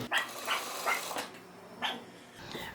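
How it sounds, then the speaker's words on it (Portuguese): A dog barks a few times in short, scattered bursts, moderately close, with quiet pauses in between. "Então fica difícil gravar sem pegar o latido dele."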